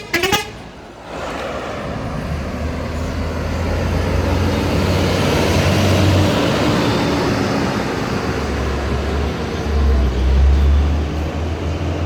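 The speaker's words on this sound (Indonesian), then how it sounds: "Dari arah Padang Pariaman bersiap-siap masuk satu unit bus Yuanda Prima" A Yuanda Prima bus bound for Palembang, arriving from Padang Pariaman on a road by the Ombilin bridge, passes with a loud, continuous engine rumble, and short horn toots sound near the start and again toward the end.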